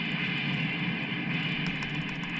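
Sustained, loud weapon fire in the Star Trek 25th Anniversary video game, photon torpedoes launched in a space battle, a steady roaring whoosh that holds level throughout with no speech.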